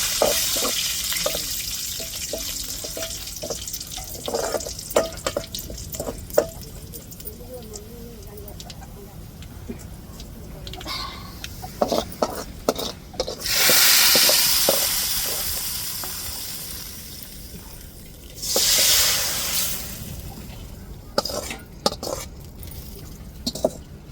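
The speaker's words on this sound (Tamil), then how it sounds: "கடுகுலாம் போட்டாச்சு இப்போ கருவேப்பில போட்டாச்சு" Mustard seeds and curry leaves crackle and sizzle in hot oil for tempering a paalai fish kuzhambu, with scattered pops and two louder hissing surges. A voice talks intermittently in between.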